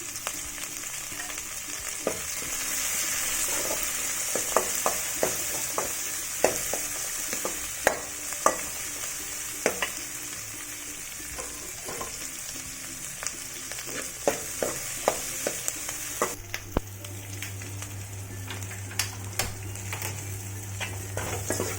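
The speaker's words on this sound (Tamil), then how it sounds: "மல்லி, சீரகம் இதெல்லாம் வணக்கி இதில் கொட்டிடணும்" Coriander seeds and cumin roast in a dry pan for horse gram kulambu, giving a steady light sizzle. A utensil stirs and scrapes against the pan with frequent sharp clicks throughout. No one speaks.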